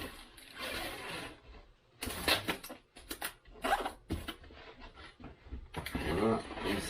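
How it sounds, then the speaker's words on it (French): Close, crackly rasps of adhesive tape being pulled off a roll and wrapped around something in several short bursts with pauses between. "Hop, on va mettre un tour autour. J'aime bien mettre plein de scotch."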